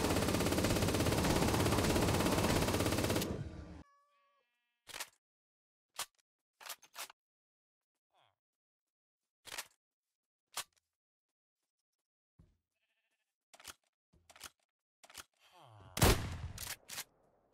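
Guns from a Minecraft weapons mod fire at the Warden: a loud burst of noise, then silence, then scattered sharp single shots and a tight rapid cluster near the end, each crisp and close.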